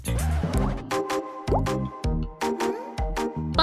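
Water drips from a tap in a string of ringing, hollow plops, about a dozen in quick uneven succession, close and clear with no voices.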